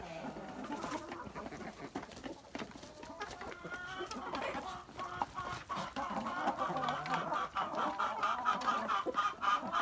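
Young laying hens of the Liven Calico, Amrocks and White Leghorn breeds cluck and chatter softly in a busy farmyard, many short calls overlapping at a distance, growing slightly louder toward the end.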